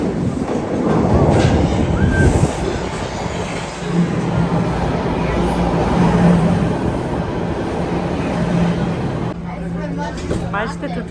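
A Toronto subway train rumbles along the track in a loud, continuous roar with rhythmic clatter. People talk over the noise throughout the ride.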